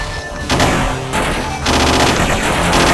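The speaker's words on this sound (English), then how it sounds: "just ducking and shooting through all the enemies" Rapid gunfire from a shooter video game fills the clip, loud and close, with dense bursts of shots broken by a brief lull before the firing resumes.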